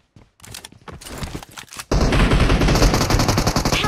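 Gunfire in the mobile shooter PUBG Mobile: scattered single shots and footsteps at first, then a loud, sustained burst of rapid automatic fire.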